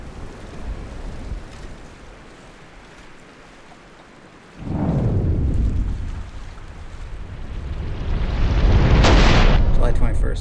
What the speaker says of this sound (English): it's been raining nonstop all morning